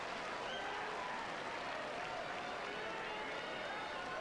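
A sumo crowd at the 2002 Kyushu tournament cheers for the flamboyant wrestler Takamisakari, a dense, unbroken roar of many voices that stays loud and even throughout.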